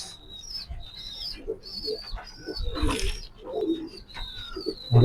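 Cooing and soft chirping from a pair of racing pigeons close by, repeated throaty coos over a few seconds with faint fluttering and light handling noise.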